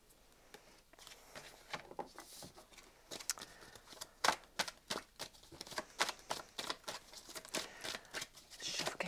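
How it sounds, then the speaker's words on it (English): Tarot cards being shuffled by hand, soft papery flicks and riffles in an uneven rhythm, quiet and close, with no speech. "give these a little bit of a shuffle, Bridget,"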